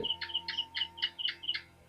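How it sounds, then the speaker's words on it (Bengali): A bird chirps in a quick repeating series of bright, clear notes, about eight evenly spaced calls, fairly close against a quiet background. "তাই পাখির কলকাকলি শোনা যাচ্ছে দারুণভাবে"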